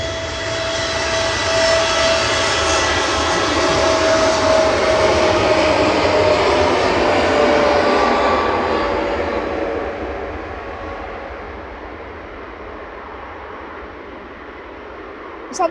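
A TUI airliner in new livery moves past at Manchester Airport, a loud, steady engine whine and roar that builds, holds, then fades, with faint voices nearby.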